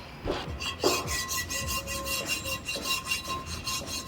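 A hand rasp scrapes back and forth during a caravan repair, producing rhythmic close rubbing strokes, roughly one every half second, with a faint tonal hum beneath.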